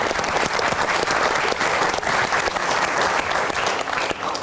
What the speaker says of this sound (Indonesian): Kasih tepuk tangan dulu dong biar semangat menyelesaikannya